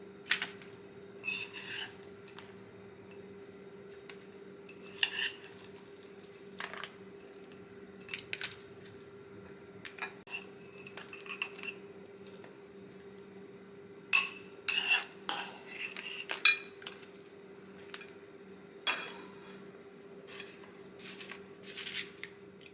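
Churmur chaat is served out with utensils and dishes: scattered light clinks and scrapes of cutlery against plates, quiet and close, coming in irregular bursts over a steady low hum.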